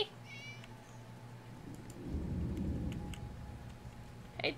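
A cat meows in a video game, a short high call near the start, over a low droning game ambience with a rumbling swell partway through.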